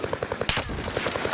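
Automatic gunfire in the Call of Duty Warzone battle royale game rattles in fast, evenly spaced shots, then a sharp louder burst cuts in and the rapid firing continues up close.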